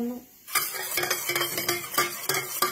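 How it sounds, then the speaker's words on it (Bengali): Yogurt whisked in a jar for a prawn dish, a brief quiet lull giving way to rapid, rhythmic clattering strokes against the container, close and loud, with no talk. "দইটাকে ভালো করে ফেটিয়ে নিচ্ছি"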